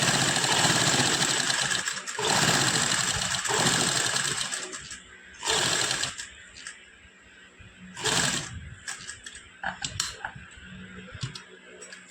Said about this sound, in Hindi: ਇਸ ਤਰ੍ਹਾਂ ਬਿਲਕੁਲ ਨਾਲ ਨਾਲ ਸਲਾਈ ਲਾਵਾਂਗੇ